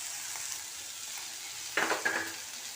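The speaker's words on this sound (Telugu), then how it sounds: "పెసరపప్పు కూడా వేసేసి" Moong dal tipped into a hot pan, a steady frying sizzle breaking into a louder burst of stirring and scraping near the end; no voices.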